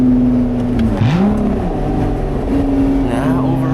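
A Lotus sports car engine revving, heard from inside the car on an Alpine drive, a loud droning tone that dips and rises again with the throttle while people talk over it.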